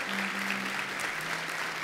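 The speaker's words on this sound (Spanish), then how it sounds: "Un aplauso fuerte, venga." A church congregation claps loudly and continuously for a newcomer during a sermon, a steady, dense wash of applause with a low sustained hum beneath it.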